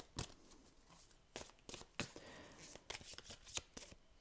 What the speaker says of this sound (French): j'ai envie de tirer une carte des anges